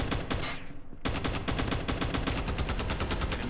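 Rapid automatic gunfire from a weapon in Call of Duty Mobile, loud and close: a short burst, a brief pause, then a long, evenly spaced stream of shots with no talking.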